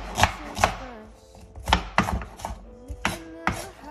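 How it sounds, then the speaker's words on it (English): A knife chops and minces vegetables for curry oxtail and beans on a board, giving sharp, close thuds in uneven clusters with short pauses between strokes, and no talking. "And then I'm going to mince everything together, right?"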